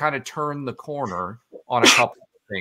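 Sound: sneeze

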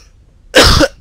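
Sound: cough

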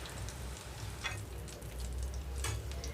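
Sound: bitter gourd pieces frying in pan

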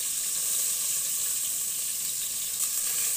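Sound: lentils added to spiced oil sizzling in a pan

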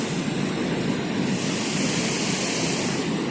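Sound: strong wind

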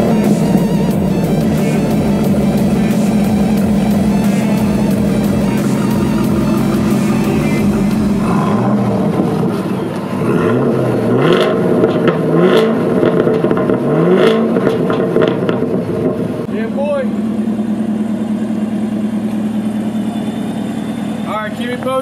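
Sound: Chevrolet Camaro ZL1 engine started and running

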